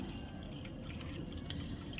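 Water is poured into a pot of warmed milk in a home kitchen, giving a faint, steady trickling splash that lasts about two seconds with no talk over it.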